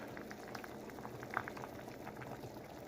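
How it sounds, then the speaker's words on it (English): Vegetable noodle soup simmering in a pot, a faint, steady bubbling and popping throughout with no voices. "Okay, it's been simmering for a little while."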